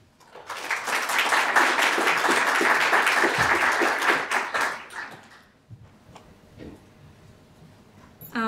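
Audience applause in a conference hall as a forestry science speaker is welcomed to the podium: loud, dense clapping swells quickly, holds for several seconds, then thins to scattered claps and quiet room sound.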